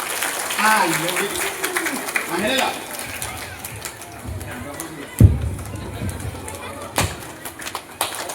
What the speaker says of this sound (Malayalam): Just clap one single clap.